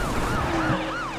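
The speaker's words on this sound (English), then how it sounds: "It is an ambulance." Ambulance siren in The Crew racing game, a wailing tone sweeping up and down continuously over steady traffic and engine noise, fairly close and loud throughout.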